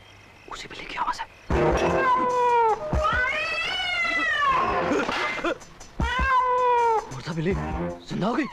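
In a horror film, a cat yowls repeatedly, in long wailing meows and caterwauls, loud and close, with brief pauses between them and a few soft sounds in the gaps.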